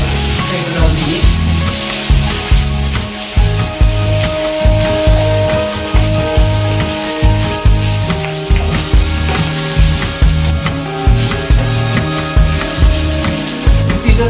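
Pork and basil leaves stirred and frying in a pan, with a continuous loud sizzle broken by repeated scraping, clattering stirs over about fourteen seconds.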